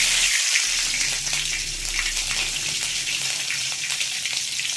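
Green chillies frying in hot oil with urad dal and cumin for a Tamil marchini kizhangu kootu, a steady bright sizzle that holds evenly throughout, close and fairly loud, with no voices over it.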